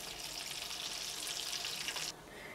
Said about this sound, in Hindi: इसी तरीके से हम सारे फ्राई कर लेंगे।